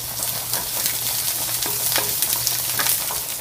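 Onions and curry leaves sautéing in a pan, a loud continuous close sizzle and crackle with occasional stirring scrapes and a steady low hum underneath, no voices.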